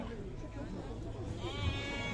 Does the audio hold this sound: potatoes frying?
no